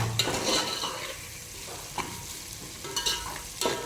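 Onions fry in a pot with a soft, close sizzle as a spoon stirs and scrapes them in uneven strokes, with occasional light knocks against the metal, fairly quiet overall.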